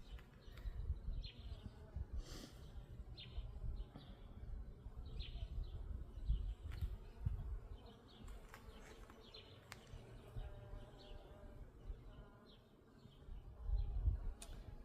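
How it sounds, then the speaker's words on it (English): Low, steady buzzing of many honeybees close by at an open hive in a bee yard, with scattered faint chirps and small knocks over the drone. "What do we got on this one? Lots of bees."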